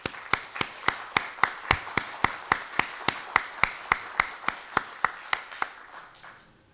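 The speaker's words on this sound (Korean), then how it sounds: "저희 임직원 모두 뜨거운 박수를 보냅니다" At a Korea Real Estate Board launch ceremony, an audience claps in a slow, even rhythm of about twenty sharp, distinct beats that fade out near the end.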